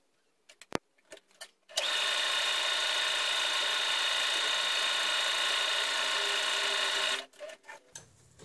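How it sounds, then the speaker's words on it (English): A sewing machine runs steadily for about five seconds, a close, even mechanical whir, preceded and followed by soft clicks and handling noises. "So I'm going to turn on my sewing machine and sew that down."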